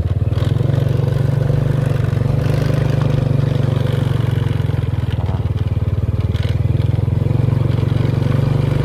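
Motorbike engine drones steadily as it rides along a road in the highlands, a close, loud, even hum with faint rattling throughout and no speech.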